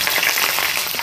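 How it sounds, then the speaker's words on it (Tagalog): Garlic drops into boiling oil and sizzles with a bright, crackling spatter, steady and close, with no talking. "ilagay na po natin ang bawang sa kumukulong mantika"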